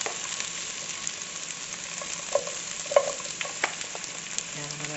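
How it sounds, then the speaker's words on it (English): Vegetables sizzle steadily in a hot sauté pan, with light stirring clicks and small pops over the continuous frying hiss. "You can actually hear it sizzle"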